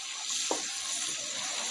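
Fish frying in mustard oil over medium heat: a steady, close hiss of sizzling oil with one brief soft splatter, continuous and without talk.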